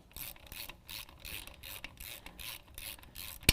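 Collar bolts being tightened on an Icon leveling kit for a 2017 Ford Raptor, a run of quick rhythmic ratchet clicks in short bursts, close and moderately loud, ending with a sharp metallic tick.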